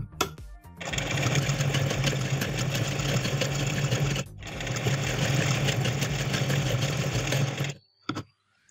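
A home sewing machine with a size 9 needle stitches stretchy hosiery fabric in a rapid, even mechanical chatter. Two long runs are split by a brief pause, and it stops near the end, close and clear.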